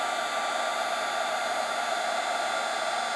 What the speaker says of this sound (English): make sure you don't hold the embossing gun onto the image too long, just until it turns shiny